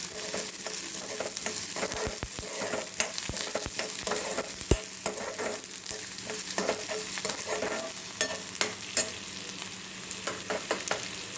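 Chopped onion for eggplant bharta stir-fried in a pan, a steady close sizzle broken by repeated spatula scrapes and knocks against the pan, with no voices.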